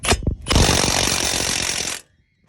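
Bolts being tightened on a Ford Explorer front end with a power tool: a few sharp knocks, then a loud, steady buzzing rattle of about a second and a half, close up, stopping abruptly.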